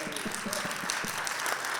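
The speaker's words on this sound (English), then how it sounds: "Big round of applause for Phyllis" Audience applause breaking out after a talk on outcomes-based funding, a dense steady patter of many hands clapping throughout, fairly close and full, with no voices standing out above it.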